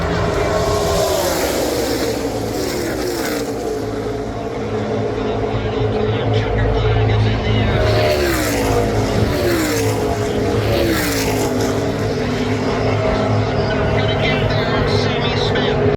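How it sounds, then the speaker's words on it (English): NASCAR Xfinity race cars roar past at Talladega, a loud, continuous engine drone with rising and falling pitch sweeps as cars pass, over constant crowd and track noise with some voices. "I will stand back and let the engines roar."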